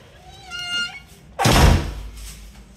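A frosted glass door in a guest suite of a Sarasota house is pushed shut with a single solid thunk, preceded by a brief rising creak, then quiet room tone.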